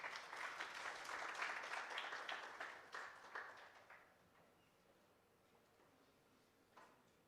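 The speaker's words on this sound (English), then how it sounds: "Another round of applause, please." A conference audience at an artificial intelligence event applauds. The clapping is dense and fairly distant, then thins out and fades after about four seconds, leaving faint scattered claps near the end.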